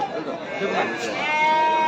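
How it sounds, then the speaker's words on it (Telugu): Sheep bleat at a busy Pileru sheep market, a few wavering bleats rising above crowd chatter and nearby voices throughout the short stretch. "అది గొర్రె."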